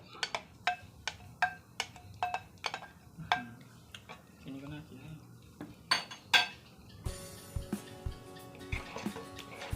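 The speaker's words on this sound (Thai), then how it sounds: "ผัดทุกอย่างให้เข้ากันครับ ใส่ไข่ที่เราคั่วไว้ก่อนหน้านี้เลยครับ" Tofu and scrambled egg being stir-fried in a pan with Korean chili sauce, a spatula scraping and clinking against the metal in repeated sharp strikes, closer and louder near the end with a steady sizzle beneath.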